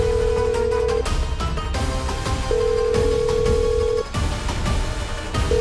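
A telephone rings on and on unanswered in a Hindi TV drama, steady repeated ring bursts with short gaps, loud and close over a dense background music bed.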